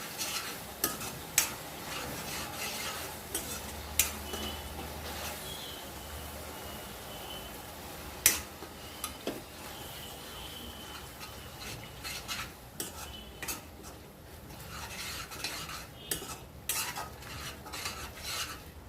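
Ginger garlic paste is stirred in a pan while fish curry is being cooked, with repeated scraping and clinks of a spoon over a faint sizzle. The sound is close and fairly quiet, and there is no talking.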